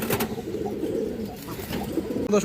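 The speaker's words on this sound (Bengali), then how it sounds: "খুবই সুন্দর কবুতর বাচ্চা দর্শক দেখেন" Soft, low cooing of pigeon chicks repeats throughout, with a brief rustle near the end.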